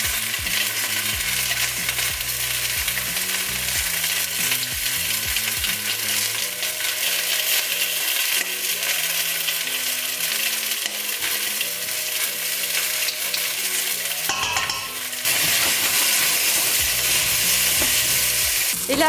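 Pressed garlic sizzles loudly and steadily in a hot pan at the start of a chicken and vegetable soup, with occasional stirring scrapes and clinks; no one speaks.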